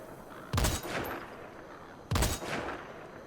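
Two sharp, loud gunshots about a second and a half apart, fired at a barrel in a game, each with a short rumbling tail over quiet background.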